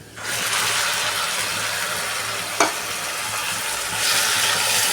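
A spice paste of ground onion, ginger, garlic and tomato with cumin, turmeric, chili and coriander powders fries for egg curry in a pan, a loud continuous sizzle close by, broken once by a sharp clink, growing brighter near the end.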